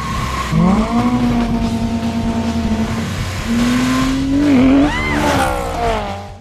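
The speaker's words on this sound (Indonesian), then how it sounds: "Kali ini Vic menyuruh Sheila mengemudikan mobil S2000 berwarna kuning kesayangannya itu untuk melawan Johnny." A yellow Honda S2000 and other street race cars speed past with a sustained engine drone that climbs in pitch, then a sharp rising rev and tire squeal near the end, loud and close.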